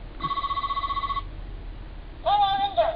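A Gokai Cellular toy phone plays electronic button sound effects: a bright, steady beeping tone lasting about a second, a pause, then a second warbling electronic tune, with faint background murmur.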